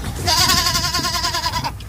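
A goat gives one loud, close, wavering bleat lasting over a second, with low background noise around it.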